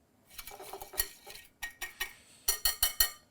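A utensil stirs onion and garlic powder into a chicken marinade in a bowl, making a series of quick, close clinks and scrapes in short bursts with brief pauses between them. No one speaks.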